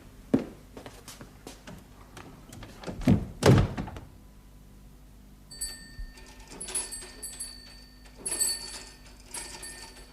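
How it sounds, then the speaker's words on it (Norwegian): An office door is pushed shut with a couple of solid wooden thunks and a louder closing knock, followed by quieter rustling movements and faint ringing tones in an indoor room. "Så setter jeg meg inn i kontoret og lukker døren."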